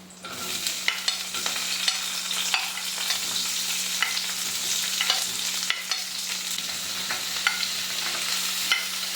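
Chopped onion fries and sizzles in a pan for a channa masala, with scraping stirs and clinks of a utensil at close range, a steady hiss underneath, and no talking.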